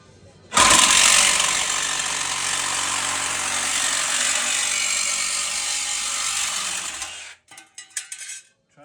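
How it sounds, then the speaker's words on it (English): A Sawzall reciprocating saw cuts a steel Jeep Wrangler floor plate held in a vise, a loud continuous buzzing rasp lasting about seven seconds before stopping, followed by a few clanks and knocks. "grab a Sawzall. Cut the plate straight down."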